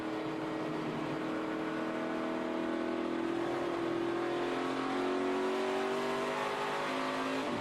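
A stock race car accelerating out of corners at the 2014 Gardner Denver 200, heard onboard: a loud, sustained engine drone with pitch climbing steadily as the throttle opens, no voices.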